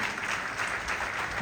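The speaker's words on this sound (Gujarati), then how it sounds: "એના માટે તાળી પાડો." Audience at a Gujarati talk event applauding in a brief, dense wash of clapping from many hands, steady and moderately loud throughout.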